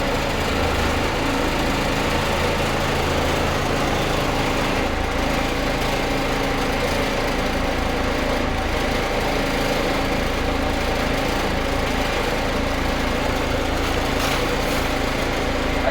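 A 1965 Gillig school bus converted to a diesel RV idles nearby, a continuous loud, even engine drone with steady low rumble and no talking.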